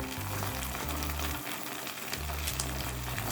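Chicken Manchurian sauce sautés in a hot pan with a steady, quiet sizzle under a low humming background, with no talk.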